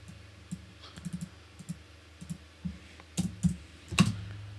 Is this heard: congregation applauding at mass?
no